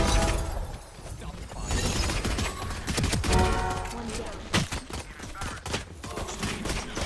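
Rapid gunfire in a video game, dense bursts of shots crackling and popping continuously throughout, fairly loud and busy, with speech mixed in underneath.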